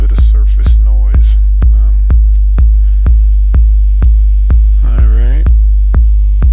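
An 808 bass in Reaper processed with Waves plugins and no MaxxBass: a deep, booming kick-and-bass pulse repeating steadily about twice a second, loud and dry, with a few brief higher percussive and vocal-chop accents over it.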